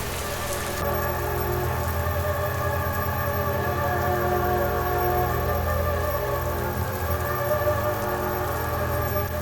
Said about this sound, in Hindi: बाहर फिर से तेज बारिश शुरू हो गई थी।